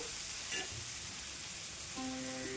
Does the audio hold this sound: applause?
no